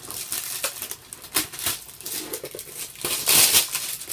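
Hard resealed plastic packaging on a Pokémon Yveltal collection box being pried and torn open, giving close, irregular crinkling and crackling bursts with sharp snaps and a brief louder tearing rip near the end.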